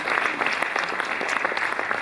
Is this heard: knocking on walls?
no